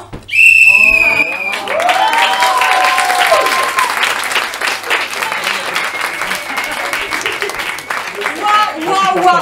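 A theater audience bursts into loud, sustained applause at the end of a show. A brief whistle and a few voices come at the start, then the clapping rolls on and slowly thins toward the end.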